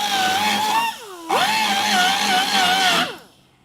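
A die grinder whines at high pitch while restoring the inner rockers of a crew cab Coronet, revving in two long bursts with a brief dip between them, then winding down.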